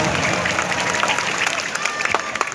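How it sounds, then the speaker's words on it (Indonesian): An audience claps through the whole stretch, bright dense applause at steady loudness with a little crowd noise mixed in. "13 tepuk tangan untuk orang Sunda"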